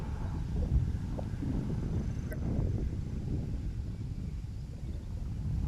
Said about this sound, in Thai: ลมพัดต้นหญ้าปลิวสวายนะครับ